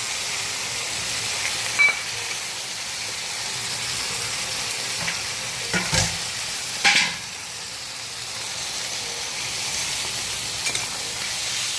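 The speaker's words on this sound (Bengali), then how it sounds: "মশলাটা সাতলাতে থাক" Turmeric, salt, cumin and chilli powder sauté with fried ridge gourd and potato in a pan, giving a steady close sizzle with a few brief clinks of stirring.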